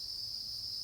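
Crickets in a breeding bin give a continuous high, even chirping drone, close and steady.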